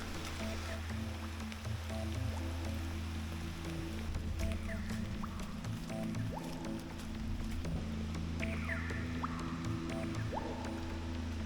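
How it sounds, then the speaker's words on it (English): Natural waterfall on a rainy day, a steady broadband rush of falling water with dripping rain, continuous and even, without talk. "A beautiful natural waterfall. And wow, we picked the day for it. It's not sunny, but it's rainy"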